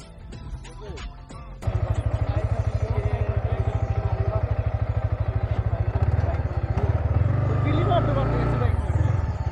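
After a short start, a motorcycle engine kicks in and runs in a close, loud, steady pulsing thrum during bike stunts, while people talk over it.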